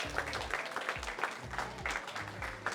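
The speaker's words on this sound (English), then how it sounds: "So give Brother Captain Andrew a round of applause." A crowd at a Baltimore brothers' graduation ceremony gives a round of applause, steady quiet clapping heard from a distance for a few seconds.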